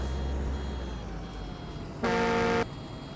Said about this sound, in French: Qu'est-ce que tu fais? Tu klaxonnes là?